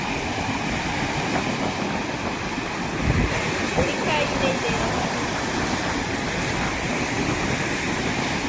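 Sea waves wash steadily onto a beach, a loud continuous roar of surf with broad rushing noise that never lets up across the whole stretch.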